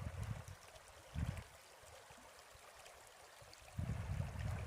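Cold spring creek water flows steadily around a person standing in it in waterproof boots, a continuous trickling rush with a few louder low swells of churning water near the start, middle and end.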